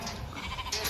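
Sheep bleat in a working pen on a farm where lambs and ewes are being sorted through an alleyway, giving a short burst of wavering bleats close by.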